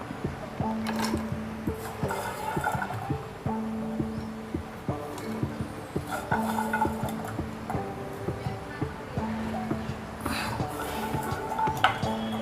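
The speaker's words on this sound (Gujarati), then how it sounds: "હવે આપણે કરમદા નાખી દેવાના." Karamda berries being dropped into a glass jar of ice water, with clinking, rattling and clattering against glass in repeated bursts, close and fairly loud, over a steady low hum and no talk.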